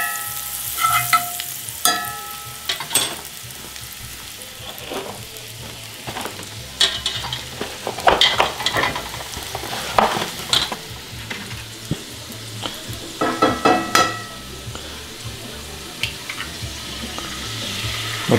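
Onions, peppers and a pat of butter sizzle in a pan, with steady crackling under intermittent scraping and stirring clatter, close by, no voices.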